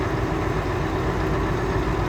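A Scania 770S truck idles in the snow with a deep, steady, low diesel rumble that stays even throughout and stands alone at close range.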